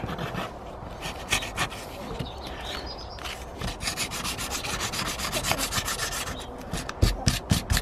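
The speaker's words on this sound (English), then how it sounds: "we're going to have to sandpaper this one a little bit." Felco secateurs blades being scrubbed with sandpaper, rapid back-and-forth rasping strokes close up and continuous, growing quicker and harder toward the end.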